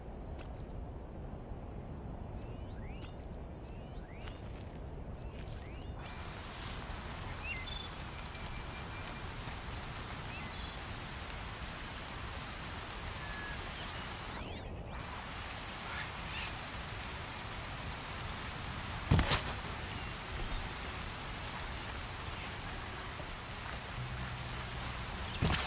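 Rain falls steadily in the video game Horizon Zero Dawn, a continuous even hiss of drops throughout, with a few brief clicks and thumps from gameplay.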